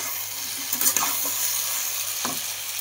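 Mixed vegetables sizzle in a kadai while being stirred, a steady close frying hiss with a couple of brief spatula scrapes, no talk.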